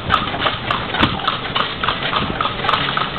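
Horse hooves from a horse-drawn carriage clop steadily on a hard street in Manila, a brisk regular rhythm that is loud and close amid a noisy background.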